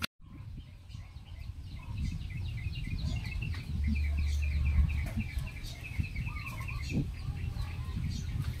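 Chickens cluck repeatedly nearby, with scattered calls over a low murmuring background and occasional flapping or rustling.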